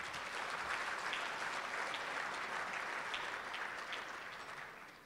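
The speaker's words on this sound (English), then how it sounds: "give a big round of applause to yourselves" An audience at a community annual report meeting applauds in a sustained, even patter of many hands that holds steady, then gradually thins and fades toward the end.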